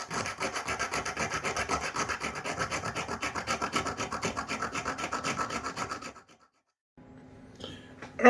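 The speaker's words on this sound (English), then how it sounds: "you can see I filed down just the inside curve here" A hand file rasps steadily in quick, even strokes against a rifle's metal charging handle for about six seconds, loud and close, then stops, followed by a brief quiet and some faint handling noise.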